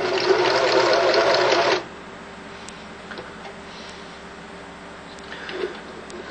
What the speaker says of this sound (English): stitch the fabric down